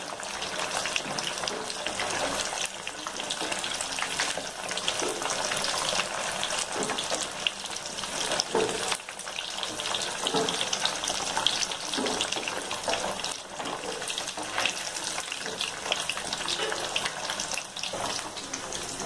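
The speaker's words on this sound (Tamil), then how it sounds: "இப்போ பார்த்தீங்க அப்படின்னா பன்னீர் கோல்டன் ப்ரௌனாக ஃப்ரை ஆயிடுச்சு." Paneer frying golden brown in a pan for restaurant-style paneer butter masala, a steady dense sizzle running unbroken for nearly twenty seconds, close and fairly loud with no talking over it.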